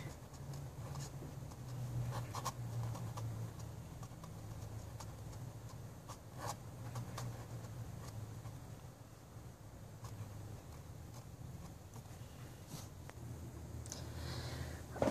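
A Noodler's Ahab flex fountain pen scratches faintly across paper in short, irregular strokes, quiet and close over a soft low background hum.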